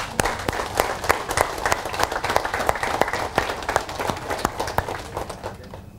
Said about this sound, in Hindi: तो आप खुद के लिए तालियां बजा सकते हैं